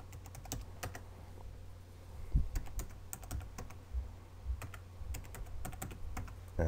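Typing on a computer keyboard while entering a username and password during setup of a NETGEAR Stora network storage device; irregular close, crisp key clicks in short bursts with brief pauses, no talking.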